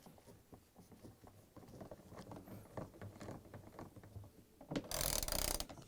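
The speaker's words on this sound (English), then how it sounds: "So we're going to use a 3/8 socket wrench." A 3/8 socket wrench ratchets bolts onto the vane of a Frigidaire washer, giving faint, quick clicking strokes in uneven bursts, ending with a louder rustling scrape.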